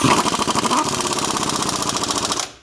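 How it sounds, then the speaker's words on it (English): Nuts measuring 14 mm are run down on a car's complete strut assembly with a power tool, producing a loud, close, rapid hammering rattle that holds steady and then cuts off at the end. "tighten down these nuts, and of course in this case it's a 14 millimeter"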